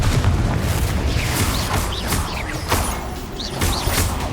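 Confringo and Bombarda spell blasts in the video game Hogwarts Legacy: repeated heavy booms with whooshing bursts and rumbling impacts that follow one another in quick succession.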